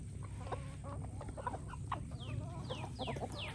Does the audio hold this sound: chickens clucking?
yes